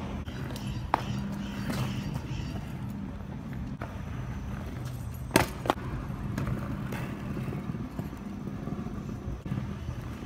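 Skateboard wheels roll steadily over a downtown street, a continuous gritty rumble with a few sharp clacks from board impacts, close by, with occasional voices under the noise.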